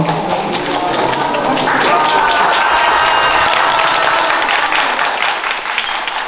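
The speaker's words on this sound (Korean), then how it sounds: "박수 한번 쳐주세요" Lively applause from an audience at a youth football mentoring event, a dense burst of clapping with sharp individual claps that runs steadily throughout at close range.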